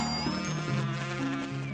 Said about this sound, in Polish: Komary mogą latać 35 godzin bez odpoczynku.